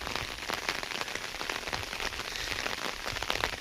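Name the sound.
rain falling at Devli Ghat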